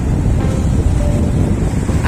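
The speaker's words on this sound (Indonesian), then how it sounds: "Anginnya saat ini bagus ini." Strong wind blasts straight into an outdoor microphone as a loud, steady roar with no break and no clear talking, while a Pegon group flies kites from Pleret.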